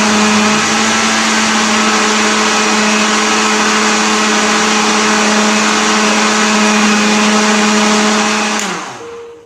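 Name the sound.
blender blending green grass jelly (cincau) leaves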